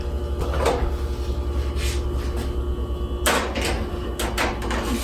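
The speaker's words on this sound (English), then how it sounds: "So let's just put them in. We're going to put them in the middle oven tray." Sugared pecans on a tray slid into the middle rack of a kitchen oven: a few soft scraping and clattering bursts over a steady humming background, with a sharper knock and rattle near the end.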